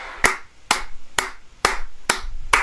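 Layered hand-clap samples panned left and right hit crisply every half second or so, six bright close slaps in a quick regular pattern, each decaying quickly, with no voices.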